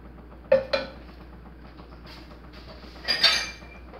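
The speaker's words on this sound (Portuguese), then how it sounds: "eu vou pegar a tampa que eu esqueci pra tampar a panela" A metal lid is picked up and set onto a cooking pan of Tuscan sausage in sauce, giving two sharp close clinks followed by a louder rattling clatter as it settles, in a quiet kitchen without speech.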